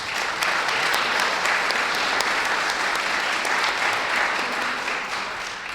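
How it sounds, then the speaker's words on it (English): Sustained applause from a ceremony crowd at an Ohio armory groundbreaking, honoring the Athens County veteran organizations' combined color guard; dense, steady clapping at full strength throughout that eases slightly at the end. "Give a round of applause to the combined Athens County Veteran Organization Color Guard."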